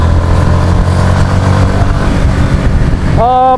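Yamaha XSR 155 motorcycle engine droning steadily while riding on a highway, close and loud, with a short rising tonal sweep near the end.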